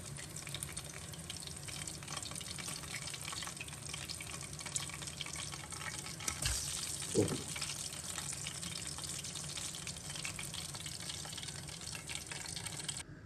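Chicken pieces frying crispy in oil, giving a steady, even sizzle that hisses continuously at low level, with a brief louder bubbling burst partway through.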